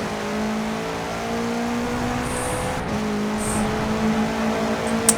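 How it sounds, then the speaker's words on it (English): An MG car engine idles and runs steadily in the Forza Horizon 4 racing game, a smooth continuous hum with a few faint high chirps near the end and no speech. "Got that MG running."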